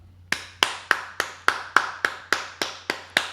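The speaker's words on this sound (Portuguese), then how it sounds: "Palmas." An audience claps in slow, evenly spaced beats, about ten sharp distinct claps over a few seconds, close and crisp with a low steady hum behind them.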